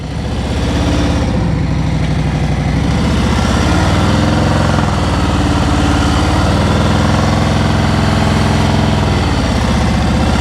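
A motorcycle engine during stop-and-go riding practice runs loud and close with a steady buzzing drone, its pitch rising and falling slightly as the throttle is worked.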